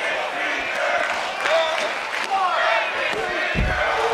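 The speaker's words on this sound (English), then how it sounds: "Crowd getting rowdy up in here" A rowdy crowd at a wrestling match, a dense, continuous roar of voices and shouts with scattered yells rising above it, loud and steady throughout, with a low thump near the end.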